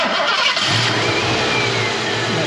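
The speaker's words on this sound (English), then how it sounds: "5 liters fires up" A 5.0L V8 in a 1988 Ford Mustang LX convertible cranks and fires up, catching into a loud, rumbling idle with a brief rev, close by with no talk.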